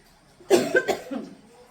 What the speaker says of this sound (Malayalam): വെള്ള സ്പീഡിൽ കുടിച്ച് ചുമയായിപ്പോയി